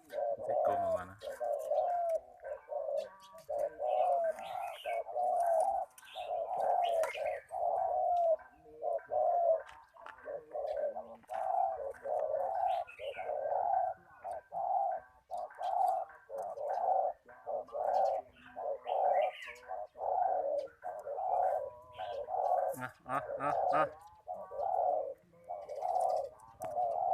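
Spotted dove (nok khao yai) cooing in a repeated, rhythmic series of low, throaty phrases, fairly close and clear, with faint background sounds between the calls.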